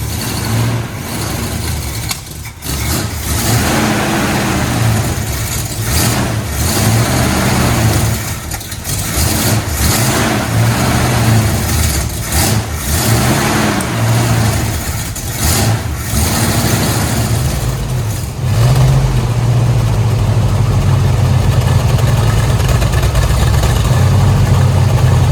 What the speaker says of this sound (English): the Mustang is finally restarted and runs and idles